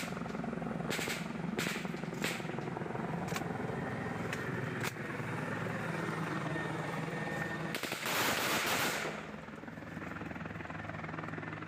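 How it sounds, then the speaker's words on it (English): Bell 412 helicopter flying with a steady, rumbling rotor drone, punctuated by several sharp, distant gunshot cracks early on and a louder burst of noise later. "shows the TPN shooting at what appears to be a Bell 412 helicopter"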